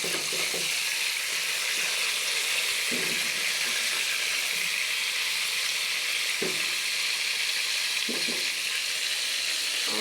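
Pangas fish sizzles steadily in hot oil, a loud continuous crackle with a few soft utensil knocks or stirring touches scattered through it.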